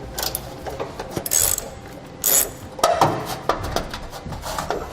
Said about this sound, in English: We'll use a 3/8 socket.